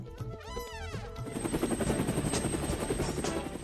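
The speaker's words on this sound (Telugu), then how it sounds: "ఇప్పుడు ఆ ఇంజిన్ ఎందుకు స్టార్ట్ చేసావు?" The engine of a cartoon army helicopter starts up with a rising whine, then settles into a loud, rapid rotor chop that keeps going steadily to the end.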